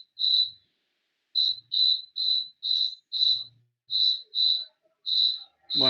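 Crickets chirp steadily in the background of a lecture recording, each pulsed chirp repeating about every half second, clear and close with only faint other sounds.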